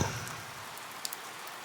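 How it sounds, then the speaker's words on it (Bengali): Light rain falls at a railway station as a cartoon sound effect, a steady soft patter with a few brief drip ticks, faint and alone with no voices. "সালের এক বৃষ্টি ভেজা সকাল সাথে ছিঁড়ি ছিঁড়ি বৃষ্টি"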